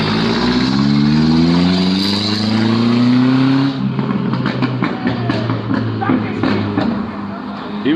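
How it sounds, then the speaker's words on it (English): A truck engine revving loudly as it drives past, its tone climbing over several seconds before it moves off, followed by a rougher, fading rumble with scattered background noise. "People come through driving these trucks like they driving a Ferrari, and that shit sounds like it's about to go into space"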